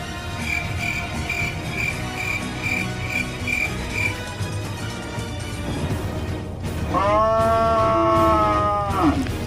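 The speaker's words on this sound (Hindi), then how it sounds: "इतनी रात को गाय क्यों आवाज दे रही है?" A cow lows loudly at night in a rural setting. Steady cricket chirping runs through the first half before the drawn-out moo rises near the end.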